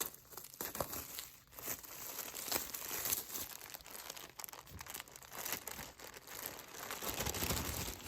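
A bead subscription box is opened up close, with continuous crinkling and rustling of plastic and paper wrapping plus brief tearing bursts, quiet and unbroken by talk.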